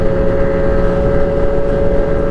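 Motorcycles ride in a group along a road, producing a steady, loud engine drone with a constant humming tone and rumbling wind noise close to the rider.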